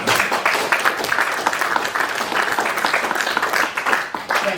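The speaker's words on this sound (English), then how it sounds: "But I appreciate that. Applause, that is." Audience at a Cascadia poetry festival panel breaking into sustained, dense applause, loud and continuous from start to finish with no break.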